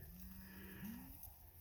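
A single cow moos on a grassy farm: one drawn-out, rising low call, faint and somewhat distant, over quiet outdoor ambience.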